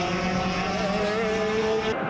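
250cc superkarts racing at Snetterton, a loud rising engine whine sweeping past close by, with a second engine note layered underneath before it cuts off.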